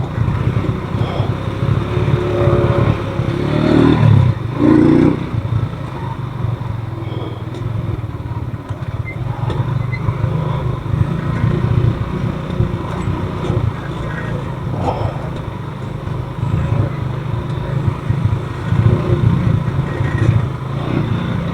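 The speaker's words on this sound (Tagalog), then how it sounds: "Nakasigunda pala ako sa akyatan kanina kaya parang nabibitin yung motor" A motorcycle labours up a steep climb in second gear, its engine droning steadily and sounding held back and strained throughout, close by with no talk over it.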